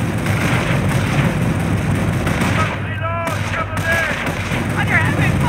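Heavy World War II gunfire in Company of Heroes: sustained rifle and machine-gun bursts rattle over a constant battle din, with brief radio-style voices talking through the fighting.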